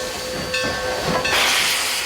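Historic Durango and Silverton narrow-gauge steam locomotive standing under steam, giving off a loud, steady hiss that swells into a stronger burst of escaping steam near the end, with no voices.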